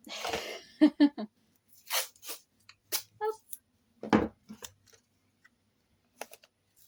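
Short crisp snips and rustles come in quick bursts up close as scissors cut through a roll of sticky tape, with pauses between.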